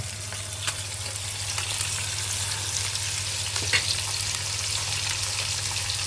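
Fish fries in hot oil in a pan, giving a steady, even sizzle with faint crackles and a low background hum, without speech.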